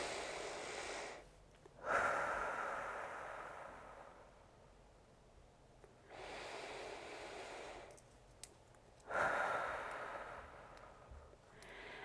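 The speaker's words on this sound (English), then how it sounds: "I'll do a count of 4 inhale, and then I'll exhale for 8" Slow, deliberate breathing exercise: two long audible inhales and exhales, each breath a soft airy rush separated by quiet pauses, close and fairly faint.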